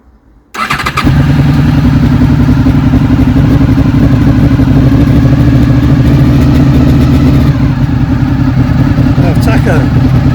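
A motorcycle engine fires up after a brief quiet start and settles straight into a loud, steady, close idle with a throbbing, even beat that continues to the end.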